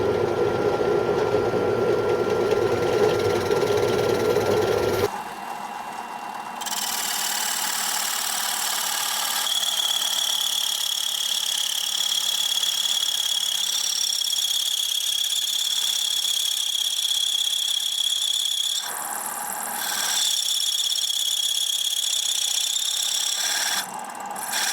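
A Craftsman circle cutter spins at its slowest speed, a steady mechanical whir with a high tonal whine that runs nearly unbroken after an opening burst of louder noise, with two brief dips.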